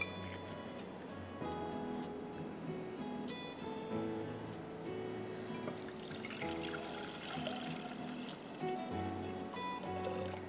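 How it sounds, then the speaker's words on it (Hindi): Four cups of water poured into a cooking pot in a kitchen, a soft continuous trickling and splashing at a low level. "और इसमें मैं डाल दूंगी 4 कप पानी।"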